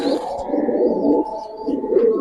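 Redneck pigeons, a high-flyer breed, coo steadily at close range in a pigeon loft, a soft continuous murmur of several birds with no talk.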